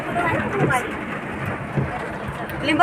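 Steady rain hisses throughout, fairly loud and close, heard from inside a vehicle, with faint voices murmuring underneath.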